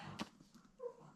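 A dog whimpers and yips faintly in a quiet room, a couple of brief high whines with a short pause between them.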